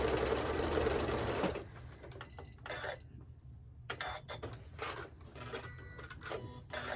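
A sewing machine back stitching a quilted tote bag with flex foam, a steady motor whir at first, then short start-stop bursts of stitching separated by quiet pauses.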